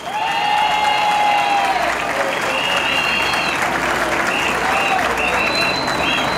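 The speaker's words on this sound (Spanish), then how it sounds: "Les pido un aplauso para ellos." A crowd at an outdoor rally for Cuban freedom in Miami applauds loudly and continuously, with a few cheers and whistles rising above the clapping.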